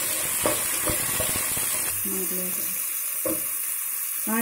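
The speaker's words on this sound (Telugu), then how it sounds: "ఆనియన్స్ రెండు నిమిషాలు వేగాయి కదా" Onions fry in a pan with a soft continuous sizzle, broken by scraping and clinking as they are stirred, and a voice talks briefly over the cooking.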